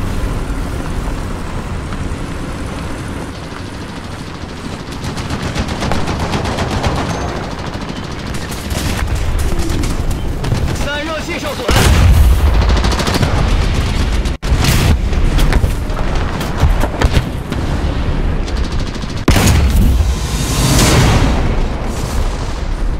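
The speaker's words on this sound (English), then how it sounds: "it's almost like firing artillery shells or a howitzer." Tank cannon fire in War Thunder gameplay, heavy booming shots and rumbling explosions over a dense roar of engines and battle noise, with loud impacts bursting out in the second half.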